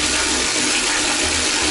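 Muddy water gushing from a household tap in a Russian city, a loud, steady rushing stream with a continuous hiss and a low gurgle underneath, heard on its own.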